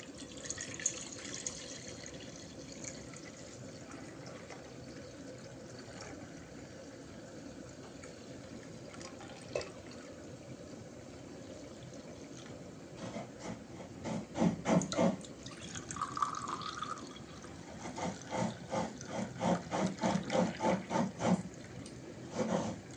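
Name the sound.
draining off water from settled arrowroot starch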